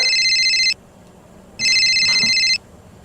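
A telephone rings twice, each time a loud electronic bell-like trill lasting under a second, with a pause between the rings and faint background hiss.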